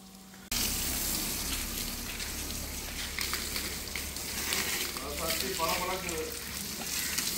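Water splashing and running over the solar panels on a van roof, a steady broadband wash that continues throughout, loud and close, with faint voices underneath.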